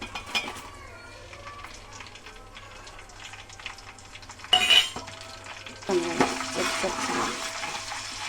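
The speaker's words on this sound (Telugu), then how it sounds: "ఇప్పుడు చికెన్ వేస్తున్నా ఆయిల్లోను" Chicken pieces going into hot oil in a small home kitchen for dum biryani, a soft crackle that jumps into a loud, steady sizzle partway through, close by.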